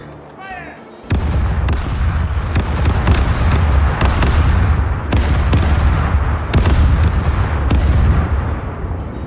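An enemy ship bombards the player in the pirate sailing game Caribbean Legend. A sudden loud cannon barrage opens with heavy booming blasts, then repeated thunderous shots land one after another over a constant low rumble, close and overwhelming.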